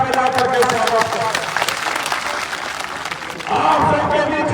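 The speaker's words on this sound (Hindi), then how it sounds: "आप सब ताली बजा करके स्वागत करें।" A crowd at a large community meeting claps to welcome a guest, the applause swelling, dipping, then rising again while a voice carries over it.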